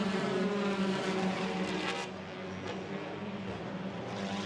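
A TCR touring race car drives through a chicane at the Barcelona circuit, its engine a loud, continuous, near roar that dips briefly as it slows and then builds again.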